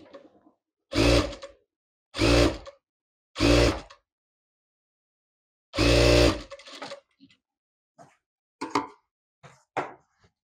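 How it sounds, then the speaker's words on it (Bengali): A sewing machine stitches blouse fabric in short separate bursts of rapid whirring, four clear runs with pauses between, followed by softer clicks and handling noises. "এই মাথা দিয়ে একটা চিকন সেলাই দিয়ে নিতে হবে।"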